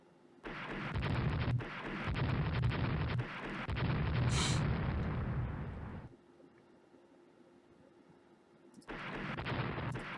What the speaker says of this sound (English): it caused what I'm assuming is a secondary explosion